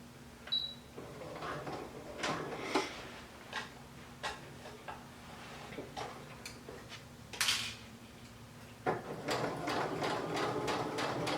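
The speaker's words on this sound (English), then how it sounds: "When you stitch down your dart, you are going to leave a trail of thread." Home sewing machine stitching down a dart in fabric, heard as a series of short mechanical bursts and ticks spread across the clip, close and fairly quiet, with no talking.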